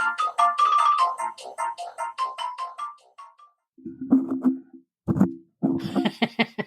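A mobile phone ringtone plays a bright melodic jingle of quick repeated notes, then breaks into short separate bursts, clear and close in an otherwise quiet room, with no one speaking.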